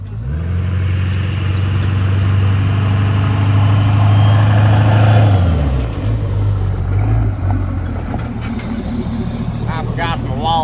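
A lifted Hummer truck's engine rumbles loudly at a steady low idle after a cold start, then settles to a quieter idle partway through, with people talking over it.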